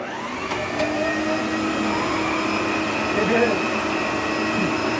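An Electrolux Epic upright vacuum cleaner without a post-motor filter drones steadily and loudly throughout, with a high whine over a rough, constant rumble.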